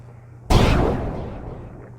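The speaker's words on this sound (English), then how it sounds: "I just had to do a gunshot just cause" A single sharp gunshot effect cracks out loud and close, followed by a long rumbling decay over a low background hum.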